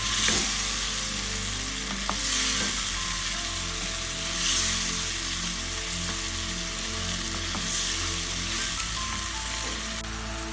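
A steady frying sizzle of turnip and spinach in a pan with soft scraping and stirring clinks throughout, close up and continuous, with no voices.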